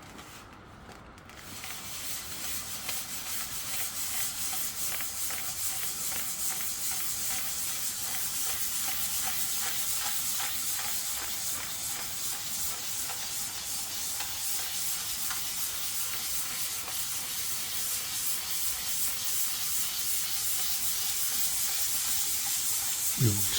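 A small sanding block rubs over fresh paint on a Hillman Imp Mk 1 sill, making a steady, close, rhythmic scratching hiss that keeps up for over twenty seconds with no talk.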